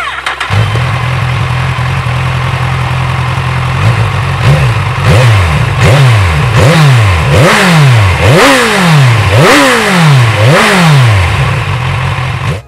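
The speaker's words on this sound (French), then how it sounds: "Et que dire de la sonorité du moteur?" A Kawasaki Z1000SX motorcycle engine idles loudly up close, then is blipped in a series of sharp revs that rise and fall about once a second, with no talking over it.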